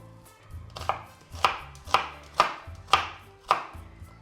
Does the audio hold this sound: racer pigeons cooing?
no